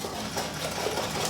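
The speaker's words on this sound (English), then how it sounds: "Give that a nice little whisk." Pizzelle batter being whisked with sugar in a bowl, a steady rapid scraping-whir that runs continuously and fairly loud for the whole brief moment, no voices.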